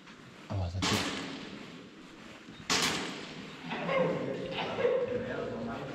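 Airsoft guns fire at an abandoned site in Germany, giving two sharp distant cracks about two seconds apart, with people talking around them.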